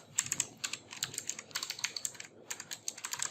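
Code, a JavaScript console.log line, being typed on a computer keyboard: rapid, close clicking keystrokes in quick bursts separated by brief pauses, with no talking.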